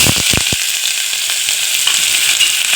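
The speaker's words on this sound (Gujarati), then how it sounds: "આ ડુંગળી છે હવે આને વઘારમાં નાખી દઉં" Chopped onion drops into a garlic tempering in a pressure cooker for garlic khichdi, giving a loud, close, steady sizzle with a few sharp crackles at the start.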